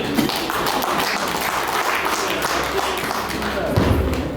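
Wedding guests clapping together at a Rwandan wedding ceremony, a dense, steady wash of applause from a crowd that carries on throughout without pause.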